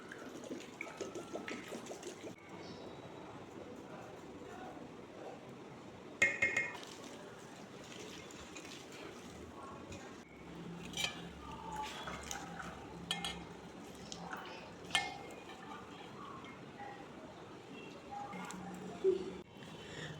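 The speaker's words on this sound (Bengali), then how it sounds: "এখন ফ্রেশ জল দিয়ে লবণ দিয়ে ভালো করে ধুয়ে নেব।" Thin-cut banana flower peel strips being washed by hand in fresh salted water: intermittent soft splashing and sloshing with occasional light clinks of a bowl, fairly close and quiet.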